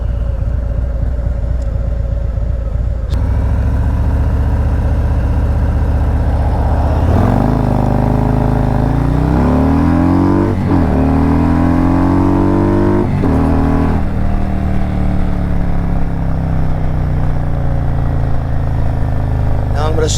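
Motorcycle engine pulling hard through a 0 to 60 timed run, its steady rumble rising in pitch through several gear changes, loud and close with wind noise throughout.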